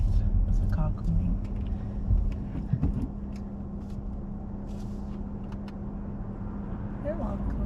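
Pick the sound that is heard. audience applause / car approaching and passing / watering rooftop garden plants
car approaching and passing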